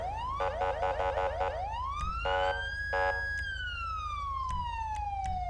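A police siren from a video game vehicle control mod sounds in short electronic yelp bursts, then rises into a long wail that slowly falls away, with a low engine hum steady underneath.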